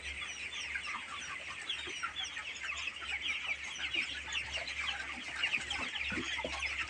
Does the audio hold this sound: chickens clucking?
yes